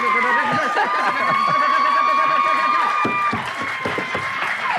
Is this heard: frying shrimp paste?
no